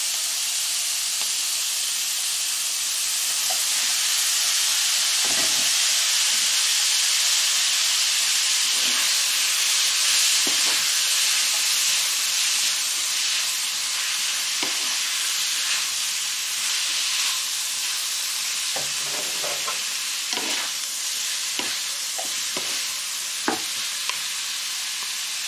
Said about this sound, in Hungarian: Hozzáadom a tésztát,